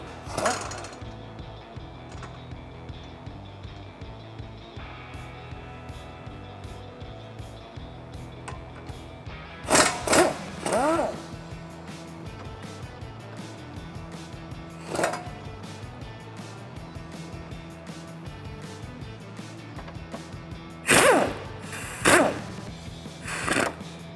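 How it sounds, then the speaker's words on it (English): An impact gun removing the suspension bolts on a 2015-2019 Mustang, with several loud rattling bursts of hammering standing out over a steady background of faint clicking and workshop noise. "Now you can see me use the impact gun"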